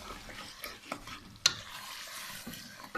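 Mutton pulao ingredients frying with salt in a pot, a soft sizzle under scraping stirs, with a sharp utensil clink in the middle and quiet clattering throughout.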